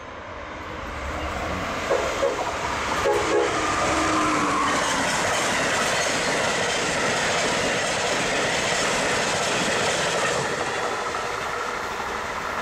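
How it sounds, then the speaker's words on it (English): An Amtrak train rolls past, a rising rumble that swells into a loud, sustained roar of wheels on rails at close range with a brief horn toot early on, no talking. "And here comes Amtrak."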